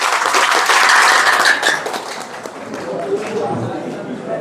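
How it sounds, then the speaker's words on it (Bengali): An audience at a career counseling program applauds with a burst of clapping that is loud at first and then fades over a few seconds. A voice talks under the clapping. "সবার জন্য একটা করতালি।"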